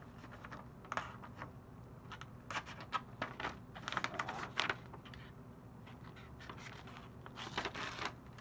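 A finished bush knife blade, fresh out of the box, slices paper in a sharpness test, giving a series of quiet, crisp, scratchy cuts and rustles close by.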